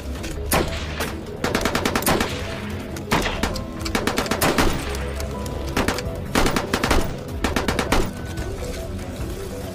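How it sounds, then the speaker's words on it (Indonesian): Gunfire from a film shootout between soldiers and British troops in 1940, with repeated bursts of automatic fire and single sharp shots crackling in clusters, some echoing, continuing loudly across the whole stretch. "terjadilah baku tembak di antara mereka"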